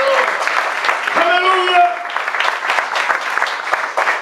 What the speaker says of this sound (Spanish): Dale ese aplauso.